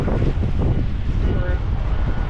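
Strong, cold wind blows hard and steadily across the microphone outdoors in Texas, a dense continuous roar with gusty buffeting that goes on without a break.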